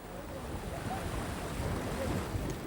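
Steady wind rushes across an open shore, with a broad low rumble of surf beneath it and no voices.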